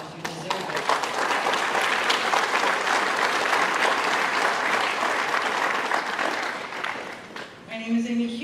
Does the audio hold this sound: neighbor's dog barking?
no